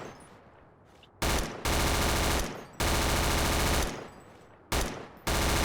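An M203-equipped rifle in Battlefield 2 fires in several loud, sustained automatic bursts of rapid shots, separated by short gaps of quieter room tone.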